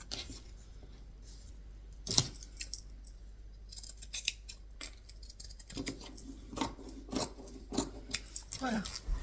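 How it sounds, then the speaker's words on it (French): Scissors cut through a piece of linen fabric at close range, with snips and rustling that come in uneven bursts, quiet at first and busier later, while a person talks softly throughout. "Vous voyez, j'ai coupé un bout de lin."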